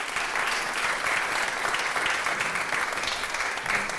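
Steady applause from a benefit concert audience, a dense wash of clapping that holds at an even level throughout without breaks.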